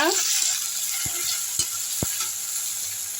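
Tomatoes sautéing in a pan over medium heat: a steady soft sizzle fills the clip, broken by a few sharp utensil taps and stirring scrapes, close and moderately loud with no talk.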